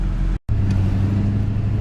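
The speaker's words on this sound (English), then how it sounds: "we're gonna go out here on the road, do a little test drive, and see how she does" A Duramax diesel pickup out on a road test drive gives a steady low engine drone and road noise, broken by one brief dropout and then carrying on evenly.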